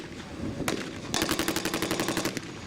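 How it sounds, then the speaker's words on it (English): A .50 caliber machine gun mounted in the back of a half-track fires during a WWII reenactment battle around a village. A short burst comes first, then a longer rapid, steady string of heavy shots, loud and fairly close. "50 caliber machine gun in the back of the half track, putting some very heavy down on the Germans in the village."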